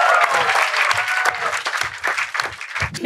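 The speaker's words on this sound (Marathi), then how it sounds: "चलो एकदा जोरदार टाळ्या भाई" An audience at a Marathi comedy show bursts into loud, dense applause that holds steady for a few seconds, with scattered cheers mixed into the clapping.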